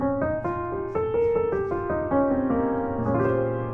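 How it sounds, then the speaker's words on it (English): A melodic minor scale over a sustained minor one chord in a jazz minor ii–V–i setting, roughly a dozen evenly spaced notes rising and falling above a steady low chord, close and clean with no talking. "if you play melodic minor, it will sound like this."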